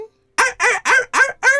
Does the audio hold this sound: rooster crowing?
yes